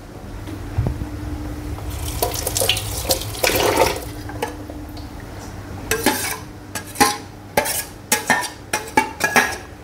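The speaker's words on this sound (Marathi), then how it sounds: "थोडंसं या भांड्यातला मसाला धुवून घ्यायला मी पाणी घालते." Water is poured into a cooking pot to rinse out leftover masala while making mutton biryani, a short splashing pour followed by a series of sharp clinks and knocks of a metal vessel and utensil.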